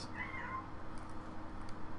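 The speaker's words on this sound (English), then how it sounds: "my cat's going crazy" A house cat meows a couple of times, the calls faint and short against a steady low hum of background noise.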